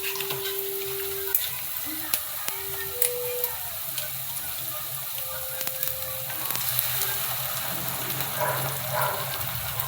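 Green chilli, soy and tomato sauces sizzle softly in a pan over a low gas flame while cooking gobi manchurian, a steady, quiet frying hiss with small crackles throughout.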